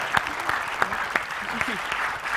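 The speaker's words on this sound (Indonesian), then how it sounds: "tepuk tangan buat Allison Bule Bandung" Applause from a stand-up comedy crowd in Bandung, a bed of clapping with sharper individual claps standing out and cheering voices calling over it.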